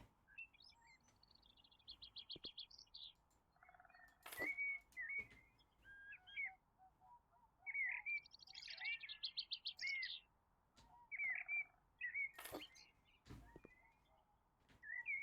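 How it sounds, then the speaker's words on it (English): Garden birds in House Flipper's Garden DLC chirp and whistle in bright, repeated phrases, loud and close, with short pauses between bursts and a few sharp clicks mixed in. "Oh, those birds are really loud."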